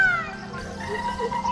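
Several peacocks calling at a tourist spot in Jhabua district, Madhya Pradesh, with loud, wailing cries overlapping one another over steady outdoor background noise.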